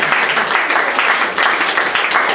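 Audience applause at a live comedy show, a dense, steady wash of many hands clapping throughout, loud and sustained without a break.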